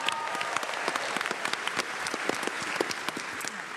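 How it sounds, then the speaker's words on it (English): A Comic-Con panel audience breaks into applause, a dense crackle of many hands clapping with scattered sharp claps standing out, steady and close throughout. "Let's give that another round of applause."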